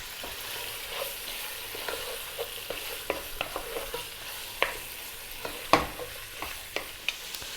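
Lamb, garlic, onions and spices fry in a pot for a Mediterranean stew, a steady soft sizzle broken by irregular close scrapes and taps of a stirring utensil, with no voices.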